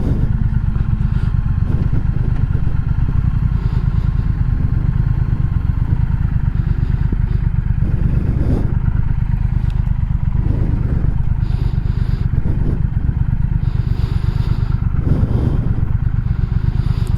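A 2020 Triumph Speed Twin rumbles along on the road at steady cruising speed, a loud continuous engine drone heard from the rider's position with faint wind noise and no talk.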